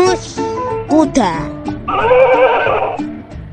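A horse neighs with a long, wavering whinny in a children's animal-name matching game, after a short stretch of voice and cartoon sounds.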